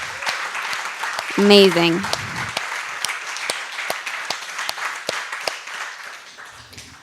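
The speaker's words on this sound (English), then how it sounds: "can I get a round of applause for all of our storytellers so far tonight?" An audience claps for storytellers at an evening live storytelling show, a steady patter of hands with a voice briefly calling out over it near the start.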